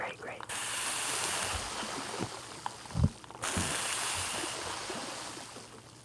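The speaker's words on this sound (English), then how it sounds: "Listen to the water fall down the mic." Water trickles and pours directly onto a microphone in an ASMR session, a close, hissing, crackling wash that cuts out abruptly twice, with a few sharp bumps against the mic.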